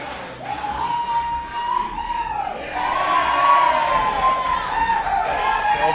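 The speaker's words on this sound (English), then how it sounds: "The crowd love it." A crowd at a blackball pool grand final cheers and whoops, swelling louder partway through, while a commentator talks over the noise.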